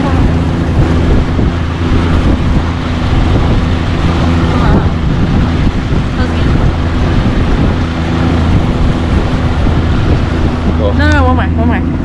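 Motorboat engine running on a reservoir during a family camping trip, a loud steady drone buried in heavy wind buffeting and water noise, with a brief high whine near the end.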